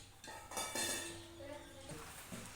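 Hakka noodles are stirred up and down in a cooking pot with a utensil, giving soft clinks and scrapes against the metal over a steady bubbling hiss, close and moderately quiet.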